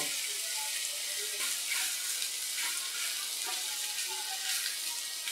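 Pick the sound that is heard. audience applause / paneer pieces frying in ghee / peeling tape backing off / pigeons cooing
paneer pieces frying in ghee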